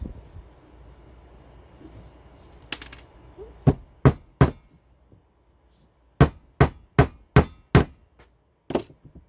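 Small tacks hammered into a wooden board for leaf string art, sharp close taps in short bursts: three quick strikes, a pause, then a run of six evenly spaced blows and one more.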